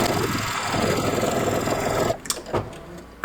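An embroidery machine sews a decorative stitch around an applique trim line with a steady, fast mechanical whirr, then stops and leaves a few faint clicks and handling noises.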